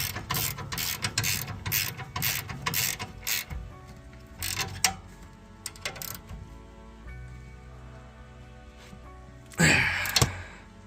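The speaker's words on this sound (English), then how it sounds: "so I'm using yet another handy dandy flex head ratcheting wrench" A flex-head ratcheting wrench clicks rapidly on the 14mm top nut of a rear sway bar end link on a BMW E90, in close bursts of fast ratchet strokes separated by pauses and a few metallic clunks.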